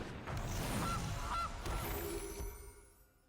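A goose honk sound effect from the Gilded Goose card in the MTG Arena video game, heard as a couple of short nasal honks over a brief rustling flourish that fades out.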